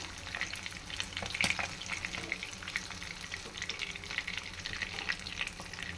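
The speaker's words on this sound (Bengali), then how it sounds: "এখন আমি মাছগুলো সব উঠিয়ে নিয়ে অন্য মাছগুলো সব ভেজে নেবো" Pabda fish frying in hot oil, a steady close crackling sizzle with occasional spatters and a brief clatter near the middle, with no talk.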